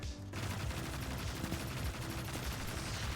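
Auto rifle fire in a video game, a steady stream of rapid shots rattling on for several seconds without a pause to reload, loud and close with no talking.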